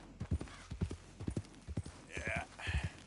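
Rhythmic hoof clip-clop of a horse in the Red Dead Redemption 2 video game, steady paced steps close up, with a voice talking quietly over part of it.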